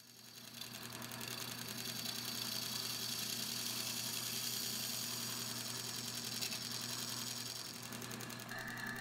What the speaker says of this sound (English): I'm still scraping